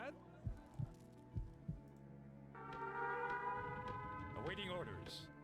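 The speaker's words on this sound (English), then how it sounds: "they keep doing the whole air raid siren well past after the bomber has come through." An air raid siren in the real-time strategy game Empire Earth rises as a loud sustained wail after several low thuds, holding steady and then sweeping upward near the end.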